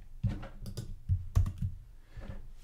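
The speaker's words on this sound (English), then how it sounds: "I'm going to push Command K." Keys pressed for the Command K shortcut on a computer keyboard while working in Logic Pro 11: a handful of soft, close clicks and taps in an uneven cluster, quiet and with no speech.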